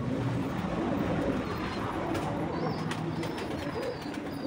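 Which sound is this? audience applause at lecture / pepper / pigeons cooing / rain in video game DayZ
pigeons cooing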